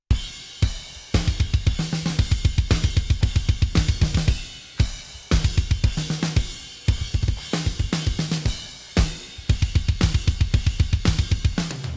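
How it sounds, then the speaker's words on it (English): Acoustic drum mix for rock or metal, with a Superior Drummer 3 kick sample layered in, plays a steady, driving beat. The kick is loud and punchy under crashing cymbals, with brief gaps between phrases and no voices. "But with that one kick sample in, sounds like this."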